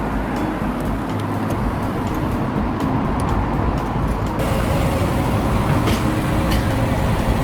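A car on a UK road pulls into a petrol station, its engine and tyre roar a steady, close, continuous rumble with no break or voices.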